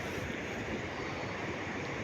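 The Warna river flowing near a pump pipeline on a farm, heard as a steady, dense rush of water mixed with wind noise, continuous and fairly even throughout.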